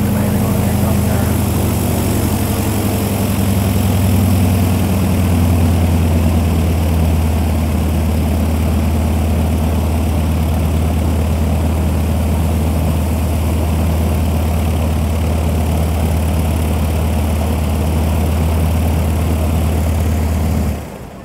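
A CAC Winjeel's radial engine idles steadily at an airshow in Sale, a deep, loud, continuous rumble with a low throb. It runs evenly throughout, then cuts off abruptly in the final moment as the engine shuts down.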